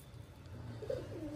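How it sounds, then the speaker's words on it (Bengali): Pigeons coo softly and low during morning feeding, with a brief rounded call near the end over steady outdoor background noise. "আমরা সকালবেলায় চলে এসেছি হচ্ছে পিজন ফিডিং করতে, মানে পায়রা খাওয়াতে"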